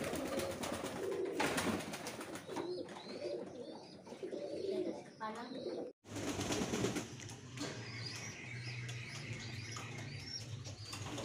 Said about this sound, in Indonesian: proses penjodohan merpati pos versus merpati balap